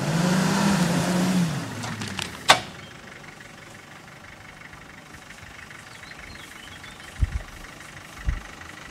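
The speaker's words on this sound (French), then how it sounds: "Allez, accélère." A 4x4 off-road vehicle's engine revs loudly at the start, then cuts to a sharp clunk and drops to a low, quieter rumble, with a few dull thumps near the end.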